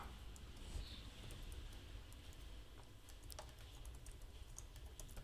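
Code being typed on a computer keyboard: steady, rapid, faint key clicks in a continuous run, close-up over a low background hiss, with no one talking.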